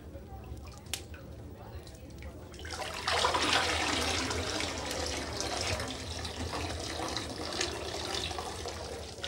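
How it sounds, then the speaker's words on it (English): Surplus whey pours back into a cheese cauldron after the curds are lifted out, a steady close splashing and trickling that starts abruptly after a quieter dripping stretch and continues without letup. "the surplus whey drained back into the cauldron"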